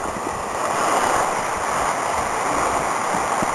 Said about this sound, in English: This is the creek.